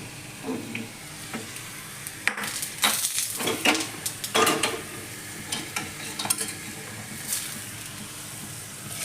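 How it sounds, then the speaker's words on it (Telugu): Hot oil tempering crackles and hisses in uneven bursts as it is tipped into a pot of amaranth-leaf dal, with occasional scraping stirs, fairly close. "పప్పులో వేసుకుందాం పోపుని"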